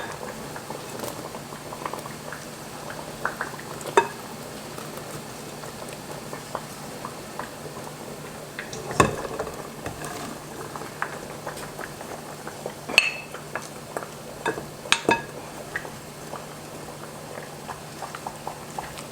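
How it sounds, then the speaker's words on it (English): Peppers for cowboy candy bubble in a pot at a steady boil, a soft continuous simmering hiss broken by occasional sharp pops and clinks of utensils. "That's a good boil."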